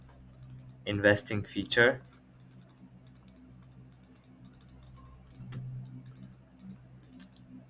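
Notes typed on a computer keyboard, with steady light clicking keystrokes running through, close but soft, after a brief spoken phrase near the start.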